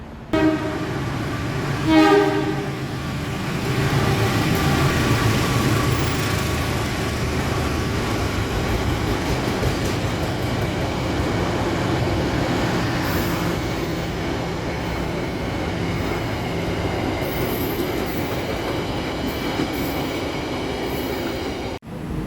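At a station platform in Indonesia, a train horn sounds early, then a long steady rumble of a passenger train rolling past close by, wheels clattering and squealing faintly throughout.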